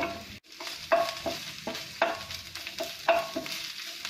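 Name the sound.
stirring and frying ginger paste and green chillies in a pan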